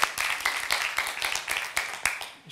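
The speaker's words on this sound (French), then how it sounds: "On peut les applaudir." Applause from a comedy club audience, with irregular broadband clapping and distinct sharper claps across a short stretch, moderately loud and fading near the end.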